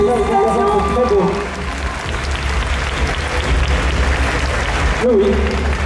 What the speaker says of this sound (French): On applaudit, c'est très beau.